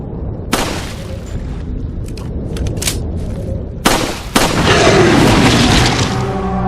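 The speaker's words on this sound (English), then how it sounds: "So why not unload a few rounds into the murky waters to stir things up a bit?" Bursts of gunfire in a video game shot into murky water, a few loud sharp cracks spaced apart over a steady dark ambient drone, with a rising swirl of sound after the last shots.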